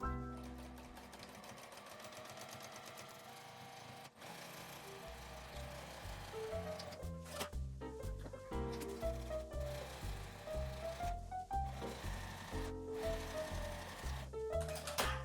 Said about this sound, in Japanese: 表同士が合うように合わせて両端を1センチの縫い代で縫います。